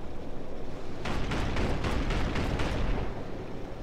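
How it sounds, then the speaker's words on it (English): An anti-aircraft gun in War Thunder fires a rapid series of about eight rhythmic, thumping bursts over a constant roaring engine and battle rumble, moderately distant. "That AAA is still there firing over the other side"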